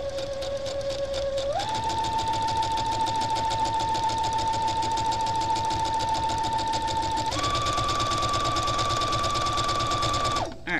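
Sewing machine running steadily while stitching a fabric scrunchie, a continuous close motor whir whose pitch steps up twice as the speed increases, alone with no talk.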